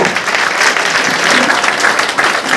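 Loud, dense applause from a crowd, continuous clapping filling the whole stretch without pause.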